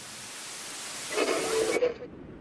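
Static hiss from a detuned analog television, a broad even rush of noise with a brief louder swell before cutting away, no talking.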